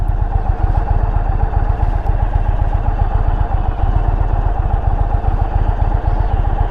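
The engine of a 2021 Indian Roadmaster bagger motorcycle chugs steadily at close range, a loud, even low-pitched pulsing drone that stays constant throughout with no voices.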